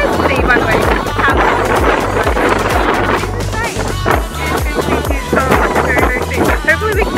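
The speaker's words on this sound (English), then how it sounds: "Holy moly, it is so windy." Strong wind gusts batter the microphone outdoors, roaring in loud, continuous rumbling buffets with no pauses.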